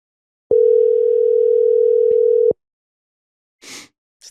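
A single two-second ringback tone sounds on an outgoing telephone call, loud and steady, then cuts to silence broken only by a faint rustle.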